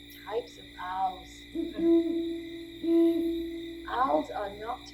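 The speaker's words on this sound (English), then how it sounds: "It's an owl." An owl gives two clear, sustained hoots, close and fairly loud, within a children's animal-learning program, with brief bursts of voices or chatter before and after them.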